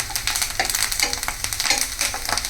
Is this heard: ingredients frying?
yes